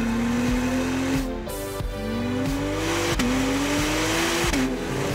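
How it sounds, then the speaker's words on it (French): Honda NSX V6 in sport mode revs hard and loud up close, its raspy engine note climbing repeatedly and dropping sharply at each of several quick gear changes. "Un bon gros V6 bien rauque."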